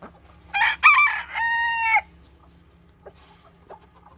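A rooster crows loudly nearby, one drawn-out call, followed by a couple of soft clucks against a quiet background hum.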